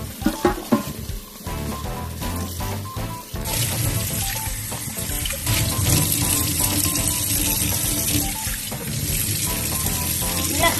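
Tap water runs steadily into a sink while a stone mortar is washed, a loud continuous splashing rush that starts after a few seconds of lighter clattering and continues alone to the end.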